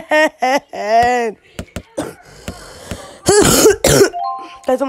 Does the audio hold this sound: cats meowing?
no